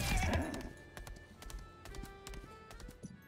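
Hooves clip-clop from a horse mount charging forward in the video game Lost Ark, a few scattered hoof strikes and thuds with game tones, moderately loud at first, then fading, with no talk.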